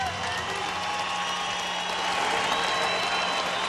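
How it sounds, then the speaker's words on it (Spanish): Audience applause after a boxing fight, a steady wash of clapping and crowd noise from a large arena, continuous and moderately loud throughout. "vamos a darle un aplauso para una tremenda pelea"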